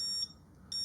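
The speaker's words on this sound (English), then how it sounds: "So if you tap it or move it, it gives you a warning beep" A Xena XX14 disc lock alarm gives two short, shrill warning beeps, one at the start and one near the end, separated by a brief quiet gap.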